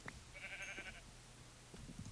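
A single sheep bleats faintly in the Minecraft video game, a short wavering cry near the start followed by quiet background.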